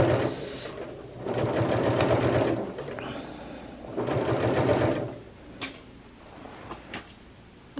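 An electric sewing machine stitches seams in two steady whirring runs of rapid needle clatter, nearby, with clicks and small handling knocks between the runs.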